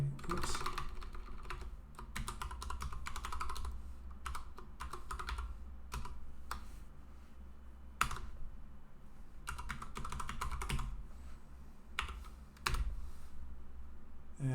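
Someone types a password on a computer keyboard: quick, uneven bursts of close clicking keystrokes with brief pauses and a few sharper key hits, and nobody speaks.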